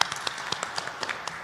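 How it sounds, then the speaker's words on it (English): Scattered applause from an audience at a Black History Month school performance, light and thin with a few distinct claps standing out, fairly quiet and brief. "You can give them a round of applause."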